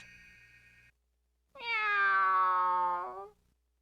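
A cat gives one long, loud, clear meow up close, preceded by a faint tonal chime and a short pause of silence.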